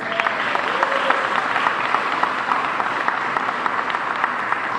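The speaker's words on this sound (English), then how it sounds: "Give DCI a big round of applause." Enthusiastic applause from an audience at a Washington, DC mayoral small-business event, a dense steady clapping that holds for the whole stretch with no voices over it.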